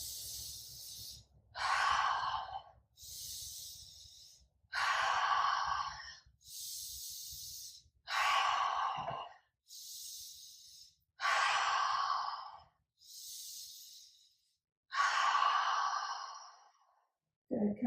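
Deep yogic breaths fill the space in a slow, regular cycle of about nine long inhales and exhales, each a close, airy rush of breath with short pauses between, heard alone without talk.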